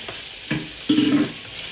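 Food cooking in a pan at home, stirred with a utensil, with soft scraping strokes over a faint steady sizzle, close and moderately quiet, with no talk.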